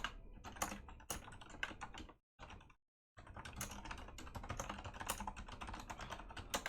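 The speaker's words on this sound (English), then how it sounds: "something about typing that command is so fucking satisfying" Rapid, dense typing on a computer keyboard, close and crisp, with a continuous clatter of keystrokes broken by a brief pause before resuming at the same brisk pace; no talking.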